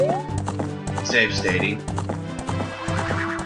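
Epona the horse from the video game Ocarina of Time whinnies and trots, hooves clip-clopping steadily over game music while a person talks throughout.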